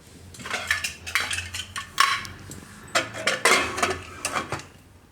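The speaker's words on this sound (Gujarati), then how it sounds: "તો હવે આપણે કુકરનું ઢાંકણું બંધ કરી દઈશું" Metal clatter of a pressure cooker lid being handled and closed while cooking mixed dal khichdi, a run of close clanks and scrapes in irregular bursts, with no talking.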